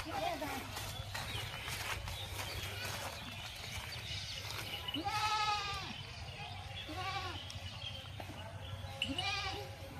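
Several wavering goat bleats ring out over faint background noise and murmuring voices, a few calls spaced across the stretch.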